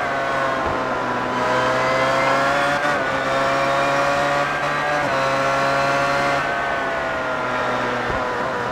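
Sportscars racing in an iRacing sim race, Autobahn Motorcar Group Sportscar Challenge: a steady, loud engine drone with layered harmonic whines that dip and climb through gear shifts, continuous and close.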